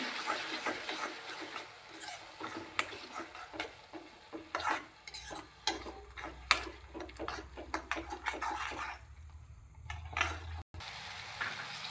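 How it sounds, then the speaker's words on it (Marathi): Tomato puree cooking in a pan for veg Amritsari, with frequent close clinks and scrapes of a spoon stirring over a low sizzle, the strokes irregular and crisp. "ती ही टाकून घेते ती पण अशी शिजवूनच घेते ती पण पूर्ण अशी शिजवून घेते मी"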